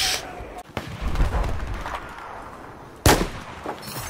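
Gunshots in the video game Battlefield 4, a sharp burst early and another loud crack near the end, with rumbling shots and a voice between them.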